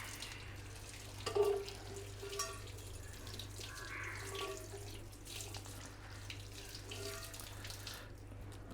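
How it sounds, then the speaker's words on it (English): A campfire cookware pan being scrubbed clean of black soot under running water, with a steady faint faucet stream and light scrubbing close by at low level. "this was a quick light scrub and you see that the pan is shiny as new"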